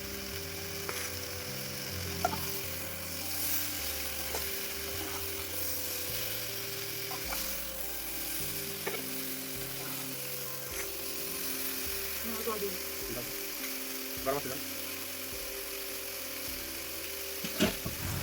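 Spices and masala fry in oil in a home kitchen pan, making a steady, continuous sizzle with occasional stirring scrapes, heard under ongoing conversation throughout.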